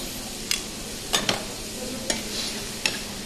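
Strips of pork collar stir-fry in a hot pan at a casino restaurant kitchen, a steady close sizzle broken by several sharp scrapes and tosses of the utensil against the pan.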